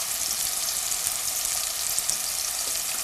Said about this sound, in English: Got a nice sizzle to it.